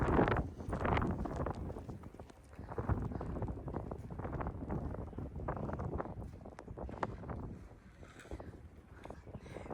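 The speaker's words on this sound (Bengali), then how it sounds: "বাতাস আছে, অনেক বাতাস।" Strong wind blows outdoors during snowfall in America, a heavy, continuous low roar with buffeting gusts rising and falling against the microphone, with no voices.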